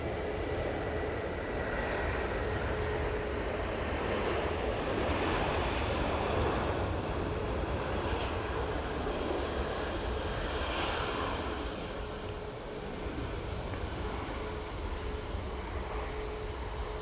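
A Jet2 plane on its takeoff roll at Manchester Airport gives a steady, broad engine roar heard from a distance, holding at an even level with a slight swell before easing off.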